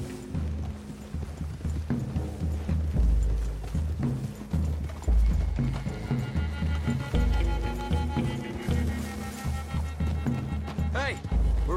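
Horses ride in the Red Dead Redemption 2 video game, giving a steady clip-clop of hooves near and loud under voices talking, with a brief whinny near the end.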